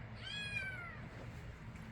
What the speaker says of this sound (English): Yeah, you're a cat.